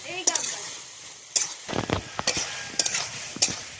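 Radish, taro and shrimp stir-fried in a pan, with repeated scraping stirring strokes and sharp clatters over a soft, steady sizzle.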